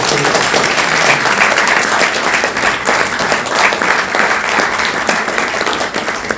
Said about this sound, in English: let's do a round of applause to Ambassador Mohan.